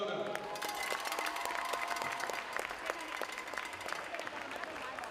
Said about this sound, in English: Please join me in giving a round of applause for our senior cheerleaders.